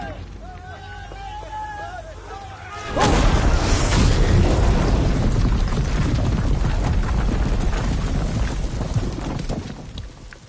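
Heavy gunfire and explosions erupt suddenly in Horizon Zero Dawn Remastered, a loud, dense roar of booms and crashes that follows a quieter stretch of character voices and continues under shouting.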